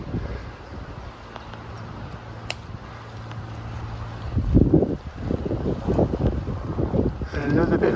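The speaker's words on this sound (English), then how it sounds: "It's very windy up here." Wind buffets the microphone in low rumbling gusts, growing stronger and louder in the second half.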